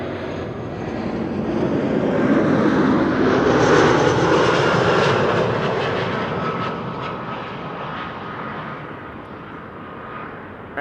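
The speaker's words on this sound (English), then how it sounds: "Air Arabia Morocco arriving from Nador" An Air Arabia Morocco airliner arriving at Amsterdam Schiphol on a frosty day roars past, swelling to a peak midway then fading gradually into the distance.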